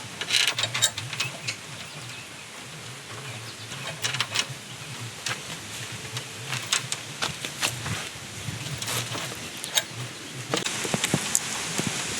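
A wrench ratchets against the blade nut on a Husqvarna riding mower, giving clustered metallic clicks and pawl rattles at an irregular rhythm, close and moderately loud, with no talk.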